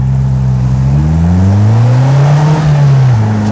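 A Polaris Slingshot with an Ecotech motor accelerates hard and close, its engine note climbing steadily and then dipping as a gear shifts, loud and alone without talk.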